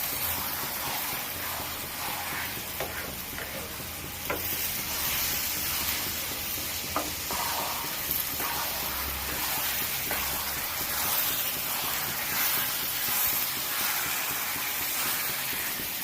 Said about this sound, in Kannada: ಹಾಗೆ ಆಯಿಲಲ್ಲಿ ಫ್ರೈ ಮಾಡಿ.